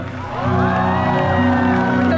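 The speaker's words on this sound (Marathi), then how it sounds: "एकदा जोरदार टाळ्या होऊन जाऊ द्या" An audience at the Chhatrapati Shivaji Maharaj Park Art Festival erupts in loud, sustained cheering, whooping and applause, swelling quickly and holding steady as a dense crowd roar.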